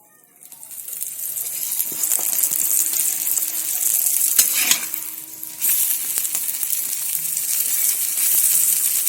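Oil sizzling loudly in a pan as a cabbage-stuffed paratha fries, a steady hiss that starts after a brief quiet moment and holds throughout, with a few small clinks and a short burst midway.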